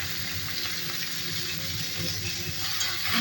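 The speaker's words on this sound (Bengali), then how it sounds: "আলু, পেঁয়াজ, লঙ্কা সব ভাজা ভাজা করে নেবো" Chopped potatoes, onions, green chillies and tomatoes fry in hot oil with a pinch of salt, a steady close sizzle with faint stirring throughout.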